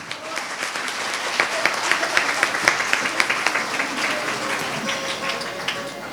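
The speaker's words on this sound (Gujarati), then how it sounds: "તો એમને તાળીઓથી વધાવી લો" An audience at a women's association's 104th anniversary gathering welcomes a guest with steady, moderately close clapping that swells and then thins out over several seconds, with a voice speaking partway through.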